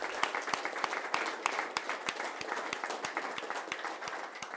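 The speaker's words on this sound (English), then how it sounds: "Yes, round of applause." An audience applauds as a guest is introduced at a public announcement for a real-time investigation center, steady crowd clapping with sharp individual claps standing out throughout, moderately loud and continuous.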